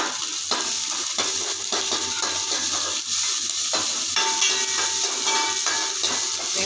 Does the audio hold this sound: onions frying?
yes